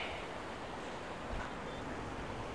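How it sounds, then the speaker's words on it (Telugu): Big ocean waves at Dhanushkodi near the Sri Lanka border, a dense, steady roar of surf with wind buffeting the microphone, loud and continuous with no talk. "మొత్తం అలలు చాలా పెద్దగా వస్తున్నాయి చూడండి."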